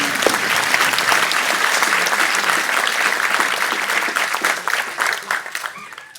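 An audience applauds at an academic year opening ceremony at IHE Delft, with steady, dense clapping from a large crowd that holds strong for several seconds and then thins and fades toward the end.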